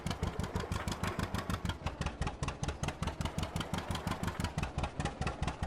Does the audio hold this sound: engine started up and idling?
yes